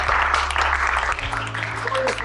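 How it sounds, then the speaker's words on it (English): Audience applause breaks out over background music, a brief bright burst of clapping with the crowd sound fairly loud and close. "Let's give a big round of applause."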